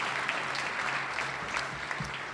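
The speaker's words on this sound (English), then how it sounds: "give one more round of applause to Dr. Gagne" A commencement crowd at a 2021 winter graduation ceremony in Albany, NY, gives a steady round of applause, moderately distant and even, with a few sharper individual claps standing out.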